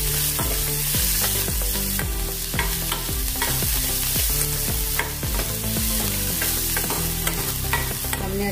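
Green chilli, carrot and capsicum are stir-fried and mixed in a pan with a loud, dense sizzle and quick scraping strokes. A tuneful background music track plays steadily over the cooking throughout.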